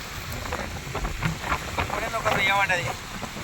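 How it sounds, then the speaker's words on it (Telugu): Steady rain patters throughout, with scattered drops and a soft rushing background; faint voices come through at times. "వర్షం స్టార్ట్ ఉంది"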